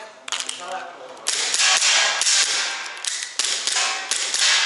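A gas-powered airsoft gun that is running out of gas fires a series of shots, each a sharp crack followed by a hissing rush, with weakening bursts and mechanical clicks between them, close up.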